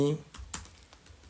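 A few quick computer keyboard keystrokes tapped in a short burst, close and fairly soft, with a voice at the very start.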